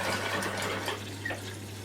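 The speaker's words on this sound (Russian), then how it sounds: "Видите, пошло наполнение с фильтра механической очистки." Water runs from a tap into a mechanical filtration filter of a household water-filter system, a steady, moderate rushing and filling hiss over a low constant hum.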